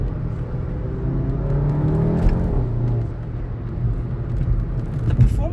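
A VW Golf 7.5 GTI drives on a busy road, its engine giving a steady close low rumble and whir from inside the cabin that rises and falls slightly with throttle, with faint road noise throughout.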